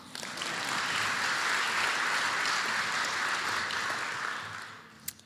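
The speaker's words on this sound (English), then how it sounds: "Okay, time to clap again." Audience clapping at a 2023 charity fundraiser for kids, a dense wash of many hands building quickly, holding steady for several seconds, then tapering off near the end.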